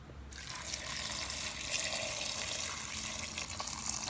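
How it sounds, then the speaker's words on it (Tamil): Water pours steadily into a cooking pot of bottle gourd and lentils for sambar, with a soft splashing trickle, close and continuous for a few seconds, no speech. "தண்ணி சேர்த்தாச்சு"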